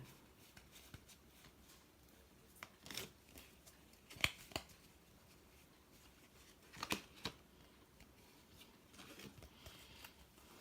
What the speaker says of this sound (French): le temps que je range un peu mes cartes